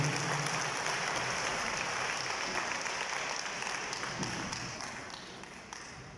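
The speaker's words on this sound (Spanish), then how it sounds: "Le damos otro fuerte aplauso al Señor Jorge." Sustained applause from an audience of teachers at a diocesan gathering, a dense steady wash of clapping that holds strong and slowly fades toward the end.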